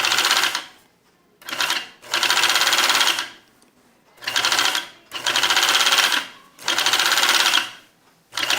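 Home overlock machine running in four rhythmic bursts of rapid, buzzing stitching, each a second or so long, separated by short pauses; close and clear with no talk.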